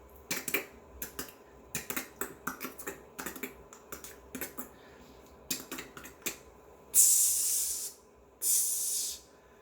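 A voice imitates a spray paint can with two loud, breathy hisses near the end, each lasting about a second, after a run of light clicking taps.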